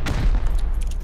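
Gunfire during a raid in the survival video game Rust, a short dense burst of rapid shots heard close and loud with no talking.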